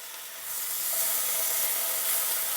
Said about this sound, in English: Okay, so I'm going to be adding my strips of bacon.